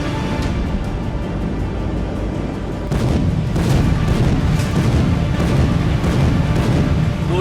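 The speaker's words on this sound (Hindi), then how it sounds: "एक बार फिर दहलाने वाली गड़गड़ाहट के साथ बारूद उगलने वाले हथियारों का डिप्लॉयमेंट शुरू हो चुका है" Artillery weapons firing on a front line: a loud, dense rumble with repeated thunderous booms that grow heavier partway through, close and continuous with no voices.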